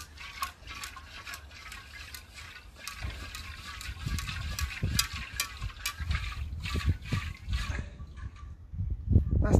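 Water sloshes and trickles in a glass jar being scrubbed out for a home daphnia culture, with soft irregular splashes and drips growing busier toward the end, under a quiet voice.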